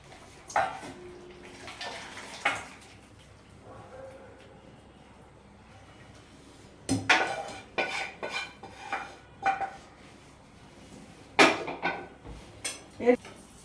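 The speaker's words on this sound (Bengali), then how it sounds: "এটা আমার একটা বাউলেতে ঢেলে রাখছি" Palak paneer poured from a pan into a bowl, with a few metallic clanks and scraping of a spoon against cookware, spread through the pour, while a voice talks at times.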